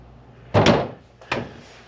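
A door pulled shut by a budget Amazon door closer gives two sharp thuds about 0.7 seconds apart, close and fairly loud against a quiet room.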